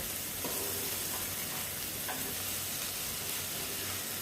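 Salted egg masala being stirred in a hot pan, with a steady, close sizzle of frying under faint scraping strokes and no voices.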